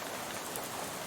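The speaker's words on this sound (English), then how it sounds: "you're dozing off to the sound of rain spattering on the window beside you" Steady rain spattering against a bus window in the Shadows Over Loathing video game, a dense, even hiss of drops that stays constant and close throughout.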